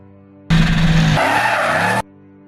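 A drift car skids with a sharp tire squeal in one loud, close burst lasting about a second and a half, surrounded by quiet.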